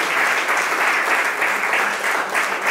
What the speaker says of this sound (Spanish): yo de corazón les pido un aplauso que se lo merece